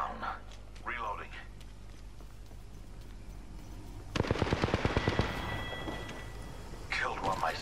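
An EVA-8 shotgun fires in a first-person shooter game, delivering a rapid burst of sharp, loud shots in quick succession, with spoken game callouts before and after.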